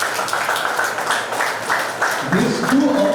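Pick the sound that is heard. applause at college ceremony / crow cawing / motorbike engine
applause at college ceremony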